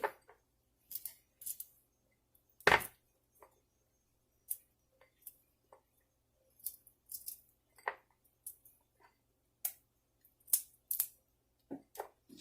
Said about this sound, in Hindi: देखिए इनको हम छोटा छोटा सा भी काट लेंगे।